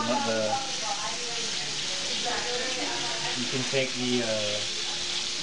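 Food sizzles and crackles steadily in a hot pan as a broad, even hiss, with people talking and voices rising over it throughout.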